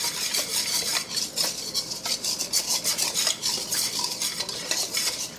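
Water and flour get stirred into a slurry for a vegan cauliflower Manchurian sauce, a utensil scraping and swishing around a bowl in quick repeated strokes, close and clear with no talk.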